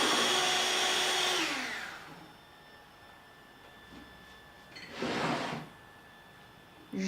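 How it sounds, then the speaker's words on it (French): Egg whites being whipped into stiff peaks for a carrot cake: a steady, close motor whir winds down and stops, then a short second burst of whirring follows after a quiet gap. "je monte mes blancs d'œufs en neige"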